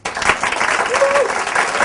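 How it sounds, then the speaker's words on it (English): An audience breaks into loud, sustained applause, a dense wash of clapping heard close and continuing evenly with no pause. "That deserves a round of applause."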